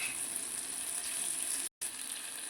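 A steady, even sizzle of liver fry cooking in a pan hisses on without a break, apart from one brief cut of silence near the end.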